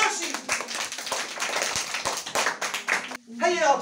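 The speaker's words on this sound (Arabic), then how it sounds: "تصفيق حال الطالب حسام مراشي." Children in a classroom applaud a young student who has just finished a letter-writing exercise, a burst of many small hands clapping quickly and unevenly, close and lively, with a voice speaking briefly at the end.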